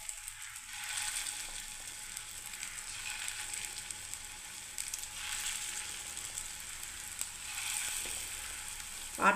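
Lentil fritters (bora) fry in a pan with a faint, steady sizzle, crackling softly and continuously with no voices.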